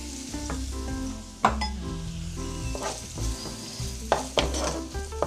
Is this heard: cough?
no